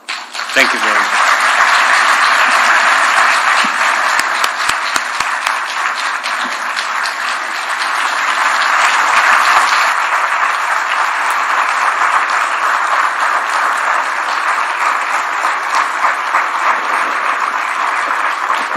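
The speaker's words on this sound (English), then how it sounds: "let's just give him another round of applause, ladies and gentlemen" A large audience applauds loudly and continuously after an address by Kenya's President William Ruto, a dense sustained wash of clapping lasting nearly twenty seconds without letting up.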